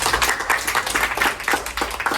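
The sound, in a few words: class clapping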